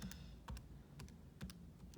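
Keyboard keys tapped in short irregular bursts, a few clustered presses at a time, close and fairly quiet over a low steady background hum.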